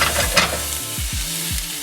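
Shallots and garlic hit a hot pan of asparagus and mushrooms, giving a steady close sizzle with a few soft low stirring thumps and no talk.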